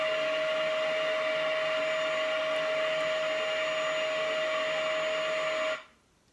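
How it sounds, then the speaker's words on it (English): Hoover vacuum cleaner running steadily at close range, a loud continuous motor whine with a sustained tone, cutting off abruptly near the end. "You hear the Hoover."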